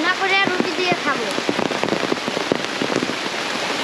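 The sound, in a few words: rain falling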